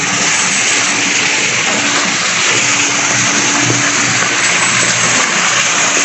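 Water rushes and churns steadily from large swimming pool filters at a resort in Los Baños, Laguna, a loud continuous broadband roar with no pauses and no talking.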